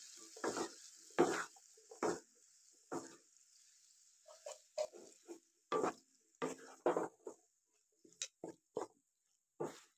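Boiled chickpeas being stirred into frying masala for a Peshawari chana karahi make a series of separate short scraping and clattering strokes, close and irregular, with near silence between them.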